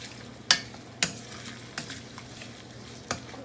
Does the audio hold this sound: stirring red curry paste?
yes